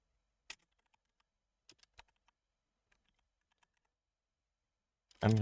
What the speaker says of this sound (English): I'm really good at typing.